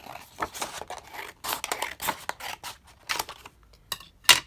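Scissors cutting through decorative paper for a simple craft flap: a close, crisp series of scratchy snips and rustling paper strokes in irregular bursts, with no voices.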